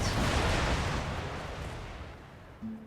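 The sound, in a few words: artillery cannon salvo in Empire Total War video game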